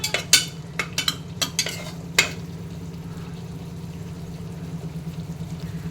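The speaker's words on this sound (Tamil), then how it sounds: "இது கொஞ்சம் 2 நிமிஷம் மட்டும் வதக்கி விட்டுக்கலாம்" Biryani masala from a Dindigul biryani kit stirred in a pan, a few sharp spoon scrapes and clinks early on over a steady low frying hiss that carries on alone.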